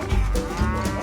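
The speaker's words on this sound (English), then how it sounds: "The Hereford cow." A Hereford cow gives a single loud, close moo, low and droning, heard alone without speech.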